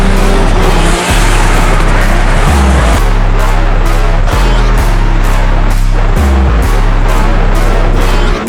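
Drift car at a French drift championship round in Mérignac, engine roaring loud and close throughout as tires squeal and skid, with revs pulsing and dipping in rhythmic bursts.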